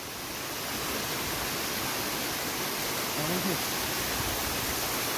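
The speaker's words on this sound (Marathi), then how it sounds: "खूप मोठा दगड आहे आणि त्याच्यावरून खाली धबधबा वाहतोय" A waterfall pours down over a huge rock on the trail to Haji Malang near Kalyan, a broad continuous rushing roar that swells slightly and stays steady, with faint voices barely showing beneath it.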